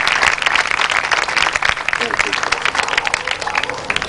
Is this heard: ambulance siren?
no